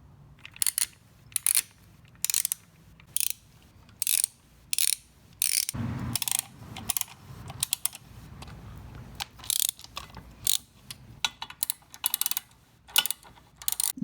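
Screws are backed out of the oil filter cover on a Yamaha V-Star 1100 motorcycle, a long run of close, sharp ratcheting clicks in bursts with short pauses between, no talking.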